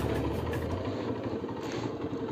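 A motorbike engine runs close by at a low, steady idle-like throb with faint vibration as it is taken down a narrow jungle footpath.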